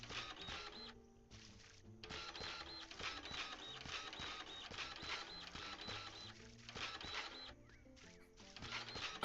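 A dirt printer machine running in the game Dinkum, rapid mechanical whirring and clicking in bursts with short pauses between runs, fairly close and steady.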